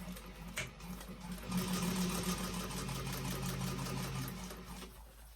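A sewing machine top stitches a vintage expandable tote bag, its motor whirring in a steady, fast mechanical run that rises after a soft start and holds for several seconds, near and alone.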